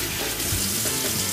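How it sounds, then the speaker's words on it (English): Hot water runs steadily from a kitchen tap while hands are rinsed of rub and chili powder, a close, continuous splashing hiss with no talk. "Good hot water."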